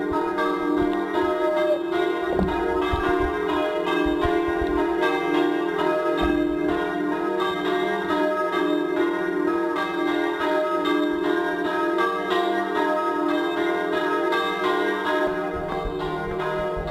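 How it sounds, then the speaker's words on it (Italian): Church bells peal at the Pieve di San Pietro, a hillside parish church in Zuglio, Carnia, ringing steadily and loudly with layered overlapping tones for the whole stretch, with no voices over them. "Vi faccio anche sentire il rumore delle campane."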